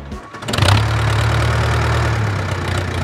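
Large naturally aspirated diesel tractor engine with one big silencer on a rusted exhaust replacement pipe, catching and settling into a loud, steady, throbbing idle close by, with no talk.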